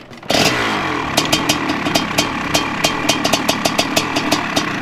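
A small engine on a homemade go-kart built from junk parts catches and runs steadily, a loud, close, buzzing rumble with a regular ticking pulse from start to finish and no voices.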